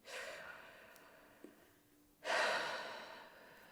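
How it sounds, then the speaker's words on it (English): A deep breathing exercise: a soft drawn-in breath, a short pause, then a stronger, airy exhale that fades slowly, close and fairly quiet, with no talk. "Just continue breathing a bit more."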